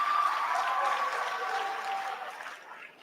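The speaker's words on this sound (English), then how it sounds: "Y'all give her a round of applause." A crowd applauding steadily at a high school event, a dense wash of clapping that gradually fades out.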